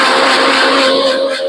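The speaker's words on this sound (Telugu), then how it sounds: "అన్ని కలిపి మిక్సీ చేసేసుకున్నాము" A mixer grinder whirring loudly as it blends a protein milkshake with milk, nuts and cardamom, a steady close motor drone that cuts off abruptly at the end.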